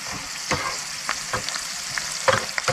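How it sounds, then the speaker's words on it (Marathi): Peanuts frying in oil in a pan while being stirred to crisp them for a traditional Konkani poha dish: a continuous soft sizzle with regular scraping stirs and a few clinks, close and without talk. "हे शेंगदाणे जरा तेलात असे परतून घ्यायचे"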